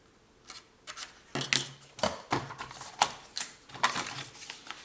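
Scrapbooking paper being cut, heard as a quick series of close, crisp snips and clicks in an uneven rhythm, each short and sharp, fairly quiet and with no talk.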